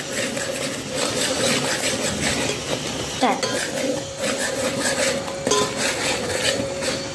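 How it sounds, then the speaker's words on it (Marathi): Ground masala paste sautés in oil in a home kitchen pan, with a steady sizzle-like hiss and repeated clinks and scrapes from a spatula stirring against the metal throughout. "इथं आपला मसाला छान असा परतून होत आहे। हळूहळू त्याला तेल पण सुटत आहे"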